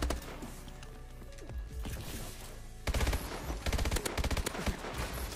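Rapid automatic gunfire in Call of Duty: Advanced Warfare, with the AK-12 among the guns in play: continuous bursts of shots, quieter at first and then louder, sharper volleys in the second half, with no talk.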